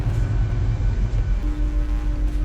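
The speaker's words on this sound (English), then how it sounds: "This is a Great Western Railway service to Penzance." A Great Western Railway train bound for Penzance rolls on from St Germans. A steady, heavy low rumble fills the clip, and a faint sustained tone comes in near the end.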